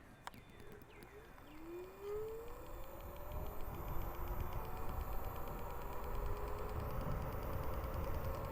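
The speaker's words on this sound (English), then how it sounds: "we'll test the acceleration from a dead stop" An Okai Neon electric scooter pulling away from a dead stop, its motor whine sweeping upward in pitch and settling into a steady hum, heard faintly over continuous rumbling road and wind noise.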